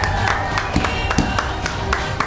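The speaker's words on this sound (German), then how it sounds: "Macht einen riesengroßen Applaus für Survival Money!" A studio audience breaks into applause for Survival Mattin, with sharp scattered claps and crowd noise over a couple of seconds; voices are faintly mixed in.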